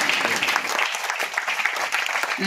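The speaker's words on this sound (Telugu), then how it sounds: "అందరికి మరొకసారి గా అందరు కూడా చప్పట్లు పట్టండి" Audience applause follows a skit performance at a Telugu Christian event: steady, dense clapping from a crowd, loud and continuous throughout with no pauses.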